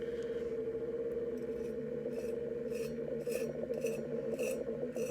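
A tool scrapes back and forth across the sandy section of an ocean tumbler, a steady rasping rub with brighter strokes repeating near the end, close and fairly quiet.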